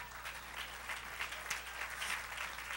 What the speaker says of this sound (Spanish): Le da el aplauso a Dios.